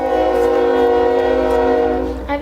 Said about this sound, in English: I have a choo-choo train going by.